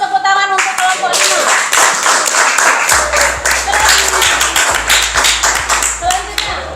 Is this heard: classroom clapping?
yes